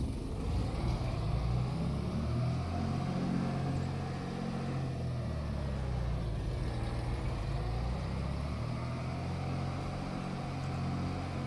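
Tractor engine in the Farming Simulator 25 video game: a steady, full, low rumbling drone that runs unbroken and evenly loud, with no talking.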